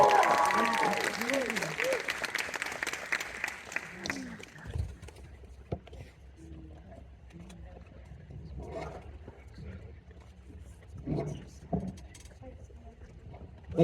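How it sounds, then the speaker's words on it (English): A theater audience applauds the cast and producers of the film Sinners at a movie talk. The clapping is loud for about four seconds, then fades out, and scattered talking and room murmur follow. "Let's give everybody a round of applause for their achievement on this wonderful film, Sinners."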